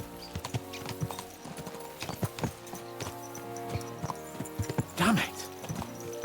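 Horses trot along in Kingdom Come: Deliverance 2, their hooves clip-clopping in a quick, uneven rhythm at close range, with a brief louder burst near the end.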